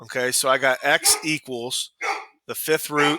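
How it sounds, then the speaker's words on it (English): A pet dog barks a few times in the background, its yips mixed in with and partly masked by a person speaking close to the mic in a home setting. "Sorry about my dog barking."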